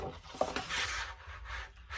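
Paper mats for a scrapbook page being trimmed with a paper cutter, a faint, brief rubbing and slicing scrape heard close up and alone.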